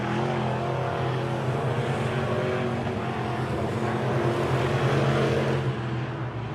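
Modified race cars circle the Lake of the Woods Speedway track in a steady, dense engine roar that stays loud and even throughout, with no single pass-by standing out, and no talk.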